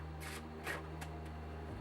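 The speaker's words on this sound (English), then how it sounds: "And then I'm just going to shuffle it one more time." A deck of tarot cards being shuffled, heard as a few quick, soft riffling bursts close by over a quiet background hum.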